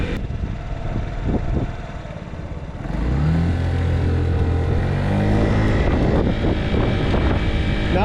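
A 2023 Honda Metropolitan 50cc moped pulls away on a neighborhood street, its small engine droning up in pitch under heavy wind rush on the microphone, loud and close, with no talking.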